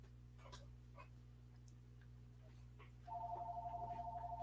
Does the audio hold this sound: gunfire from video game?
no